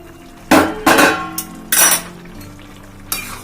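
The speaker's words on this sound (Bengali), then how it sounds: "চলো ঢাকাটা খুলে নিই।" A cooking pot's lid comes off with a few loud metallic clanks and scrapes, close by and without talk, while bottle gourd with prawns cooks inside.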